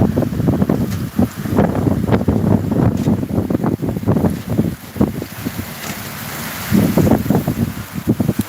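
Heavy wind-driven rain falling on a village, a constant loud rushing wash broken by irregular gusts hitting the microphone, with no voices.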